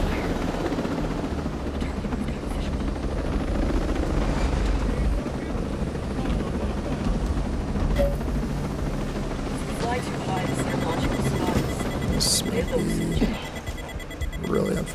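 A helicopter in the video game Ghost Recon: Breakpoint thrums steadily with rotor noise throughout, with scattered game effects and a voice speaking over it.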